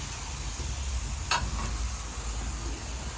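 A paratha brushed with ghee sizzles on a griddle with a constant close hiss and crackle, plus one brief sharper flare of sizzle partway through.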